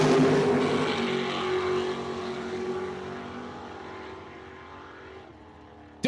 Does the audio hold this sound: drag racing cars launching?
yes